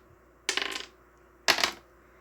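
Dice rolled across a table during a Chaos Space Marines versus Harlequins tabletop wargame: two separate short rattling bursts about a second apart, close and fairly loud, with no talking.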